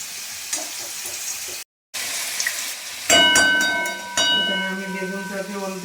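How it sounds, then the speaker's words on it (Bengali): Brinjal and papad fry in oil in a kadai, a steady close sizzle that swells louder partway through, with clinking utensil sounds and brief scraping over the bubbling. "আর এখানে আমি বেগুনগুলো ভাজছি"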